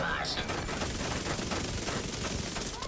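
SMG fire in The Division, a dense, continuous rattle of rapid shots running the whole stretch at steady loudness, with a voice talking over it.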